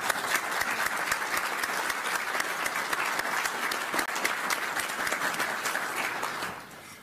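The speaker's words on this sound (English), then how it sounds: "Let's give them all a round of applause." An audience at a Ukraine defense session applauds military leaders with sustained, dense clapping that holds steady and then fades near the end.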